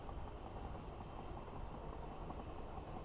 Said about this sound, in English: Another train coming by, I didn't see who that was